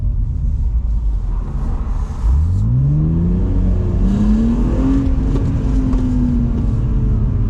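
A 2002 BMW 330Ci E46 engine revs up clearly while driving, its tone sweeping upward in a smooth rising pull and then holding a steady, loud drone over road rumble.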